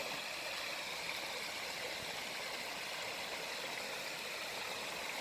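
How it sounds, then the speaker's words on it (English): A huge waterfall feeding a river that runs through a scenic hiking spot gives a steady, even rush of falling water, unbroken and alone, with no voices. "At one end is a huge waterfall, and then this river runs between the two sides of the circle"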